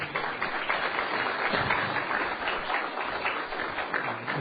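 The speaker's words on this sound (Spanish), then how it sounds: "Gracias por el aplauso." An audience gives a lecture speaker sustained applause, a dense, even wash of many hands clapping for about four seconds without voices.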